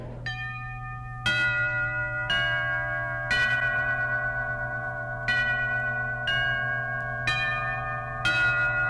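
A series of resonant doorbell chimes strikes roughly once per second, each ringing tone layered over a steady low hum, loud and close.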